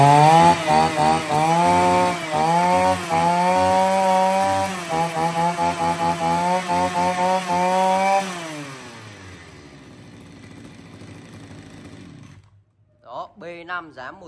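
A petrol brush cutter sold for heavy grass clearing runs loud and close, its engine pulsing in steady revving bursts that drop to idle and then fade into quieter handling noise.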